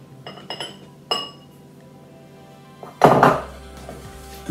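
Fresh baker's yeast, lukewarm water and flour are combined in a bowl. A few sharp glassy clinks come first, then a brief, louder burst of scraping and stirring against the bowl.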